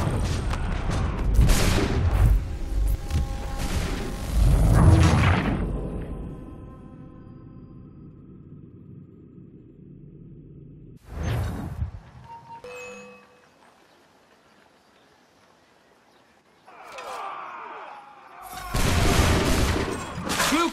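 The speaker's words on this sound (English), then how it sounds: "Bluecoats firing from above!" Battlefield gunfire as soldiers shoot down from higher ground, with loud volleys and booming bursts in the first few seconds, then a quieter stretch before more shots and a final loud burst near the end.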